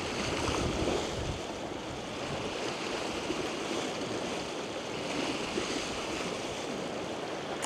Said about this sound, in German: Aber es ist natürlich ein bisschen aufgewühlt, das Wasser.